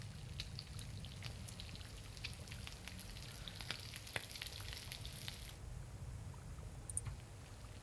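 Meat frying in The Long Dark survival game, a steady soft sizzle with scattered crackles and pops running throughout, quiet and even with no voices.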